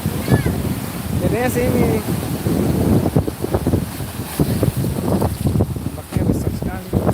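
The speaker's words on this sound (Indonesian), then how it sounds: "Pantainya bagus, ombaknya besar. Besar sekali ombaknya." Big ocean waves roll onto a beach in a continuous, wind-buffeted roar, while people talk in the foreground.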